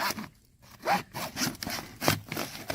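A hand saw cuts straight through 6-inch French drain pipe in a few close, rasping strokes, loud and alone with brief pauses between pushes.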